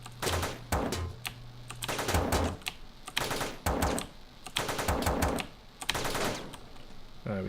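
Automatic turret fire in the top-down shooter Teleglitch, rapid bursts of clattering shots in several volleys with short gaps, fairly close and dominant, with brief game noises between bursts.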